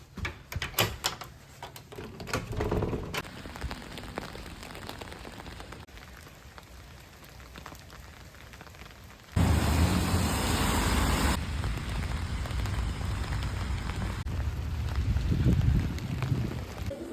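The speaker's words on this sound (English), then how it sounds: "It is very rainy" Steady rain pours outdoors on a wet day, a continuous broadband hiss that swells louder and denser partway through and stays close and constant with no talking.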